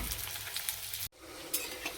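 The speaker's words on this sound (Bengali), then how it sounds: "বেসনে ডুবে ডুবে ভেজে নিচ্ছি" Pakoras dipped in gram flour batter fry in hot oil with a dense, loud, crackling sizzle that cuts out for a split second and then resumes just as strongly.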